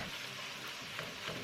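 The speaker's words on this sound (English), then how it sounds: "In a large skillet, I'm gonna cook these up until they're nearly crisp." Chopped bacon sizzles and fries steadily in a large skillet, a dense continuous crackle with occasional louder pops and stirring, close and alone without talk.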